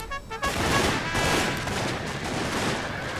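Troops in the strategy game Shogun 2: Fall of the Samurai fire their guns in a dense, continuous volley of overlapping gunshots. The crackling barrage stays loud and sustained with no voices.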